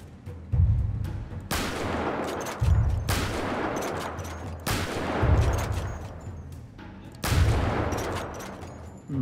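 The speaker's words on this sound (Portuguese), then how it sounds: "Opa, tiro. Opa. A bala tá comendo por aqui." Gunfire in the video game GTA roleplay, four loud bursts of shots arriving in a regular rhythm about every two seconds, each trailing off into a long echoing crackle, no voices.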